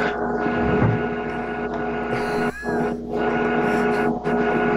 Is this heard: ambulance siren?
no